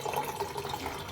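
Water splashes briefly into a small pan in a tiny kitchen as Maggi noodles cook, a short, fairly close liquid pour.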